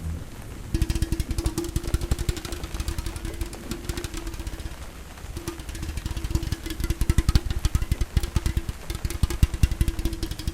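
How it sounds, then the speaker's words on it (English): Heavy rain pelts down on a tent in a dense, steady patter, with a low droning hum running underneath through most of the stretch and no voices. "As you can hear, it is pelting down with rain"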